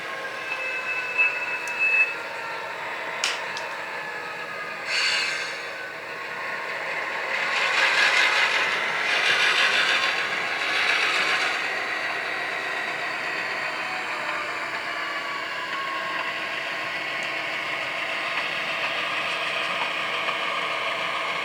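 A Southern Pacific GP9 diesel locomotive rumbles steadily with a low mechanical drone while switching at Huntington Beach, rising briefly in the middle with hissing bursts and clanks. No one speaks.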